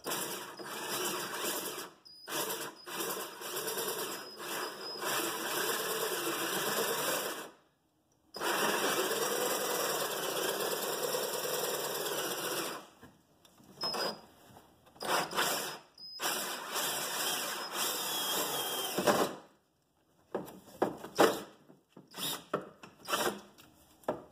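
A 2.5 inch hole saw cuts through the body of a 2016 Polaris Ranger 900 XP, whirring steadily and close by in several long bursts broken by short pauses, with no talking.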